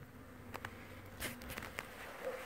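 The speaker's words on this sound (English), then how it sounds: "I'm gonna try to get this clump of bees back in." Honey bees buzz around a hive on a cold day while a clump of bees is coaxed back inside during a check on a released queen; a faint, steady hum with a few brief louder bursts.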